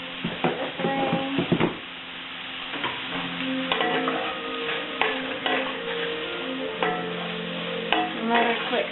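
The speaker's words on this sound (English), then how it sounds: "Another quick stir." Spoon stirring a one-pan skillet dinner with black pepper over the heat, steady close sizzle with scraping and clinking strokes against the pan throughout.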